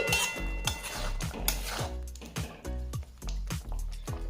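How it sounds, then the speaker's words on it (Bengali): Green tomato jhal being stirred with chopped coriander leaves in a pan, giving a steady run of utensil scrapes and clinks against the metal, roughly one every half second, close and moderately loud, with no talk. "ধনে পাতা দেওয়ার পর ভালোভাবে মিশিয়ে নিচ্ছি"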